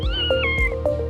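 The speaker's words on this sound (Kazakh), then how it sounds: "Мысық мияулайды." A cat meows several times in a row, each meow rising and then falling in pitch, close and clear with no other sounds around it.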